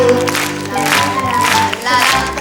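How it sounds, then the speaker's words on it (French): A television studio audience at a 1981 children's singing contest applauds steadily, the clapping blended with music and voices. "Très bien, je t'applaudis."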